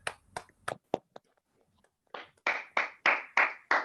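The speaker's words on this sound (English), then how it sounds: "can we just give a round of applause to everyone?" Toastmasters club meeting guests applauding at the close, a few sharp separate claps, a brief pause, then a run of louder rhythmic claps from a small group, fairly close.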